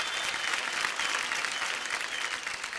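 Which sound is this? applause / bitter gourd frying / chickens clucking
applause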